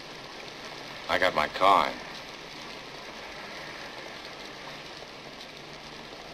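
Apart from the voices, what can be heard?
heavy rain falling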